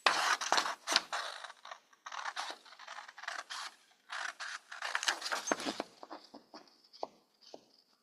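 Paper being cut out for an 8-ounce cup cover, heard as quiet, close scissor snips and scratchy scraping in an irregular series, with short pauses between cuts.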